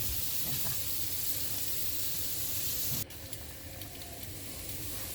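Carrot and onion stir-frying in a pan give a steady hiss of sizzling that drops abruptly partway through, then continues more softly with light scraping.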